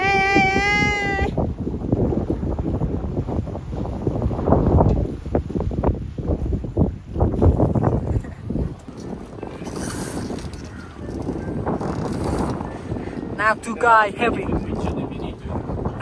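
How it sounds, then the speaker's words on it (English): Strong wind roars steadily across a sailing yacht during a fun race, with water and rigging noise beneath, while people talk throughout. "It's heavy wind, huh? It's windy."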